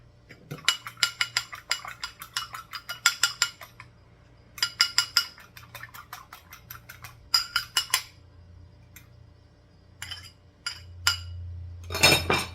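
Ingredients being mixed with salt and pepper, with a utensil clinking and scraping against a bowl in quick rhythmic bursts separated by pauses, fairly close and clear.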